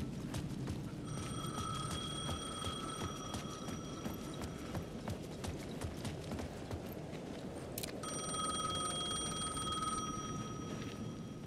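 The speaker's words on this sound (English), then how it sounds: "payphone at the edge of the plaza was ringing again." A payphone at the edge of a plaza in the video game Alan Wake 2 rings in two long bursts of steady electronic trilling, separated by a pause, over a low ambient hum.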